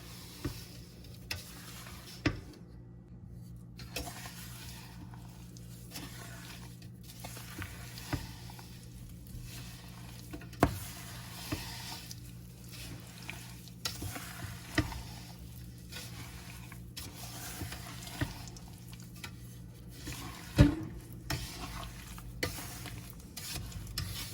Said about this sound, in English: we're going to bring it to a boil over medium heat while we stir to dissolve all that sugar